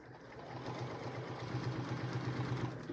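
A sewing machine stitching through sandwiched layers of fabric, giving a steady, quiet mechanical hum with a fast rhythmic pulse of the needle, heard alone and close for a few seconds.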